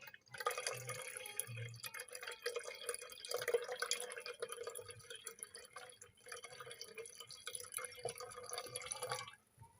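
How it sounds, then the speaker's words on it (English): Water is poured into a gold refining solution to dilute it, giving a continuous splashing, trickling pour at low level that stops abruptly near the end. "I'm going to dilute it with some water to drop out any silver"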